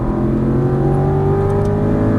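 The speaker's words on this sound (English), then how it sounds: "Apexing now, squeeze on full throttle" An Aston Martin V8 Vantage GT race car accelerates at full throttle out of a corner on track, a loud, close, steady engine roar with the pitch rising smoothly over a couple of seconds.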